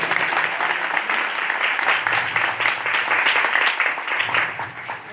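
Loud, sustained applause from a crowd at an outdoor Christian gathering in Pakistan, dense steady clapping throughout that thins slightly near the end, with no talk over it.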